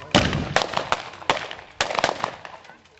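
Cannons fire in Kinsale, several sharp booming reports one after another at irregular intervals, each with a short echoing tail, heard from a distance outdoors.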